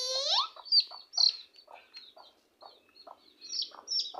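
Newly hatched chicken chicks cheep in short, high-pitched chirps, some rising and sliding, coming in irregular clusters at close range.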